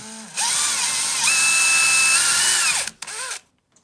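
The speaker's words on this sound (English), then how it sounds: "Don't drill too deep." A power drill whines steadily at high speed for a few seconds while drilling a hole for drawer runners, pitch shifting slightly under load, then stops with a brief second burst.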